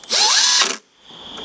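A power drill drives a screw while a window security shutter is installed, giving one short, loud whirring burst that rises in pitch before stopping, then a faint lingering hum.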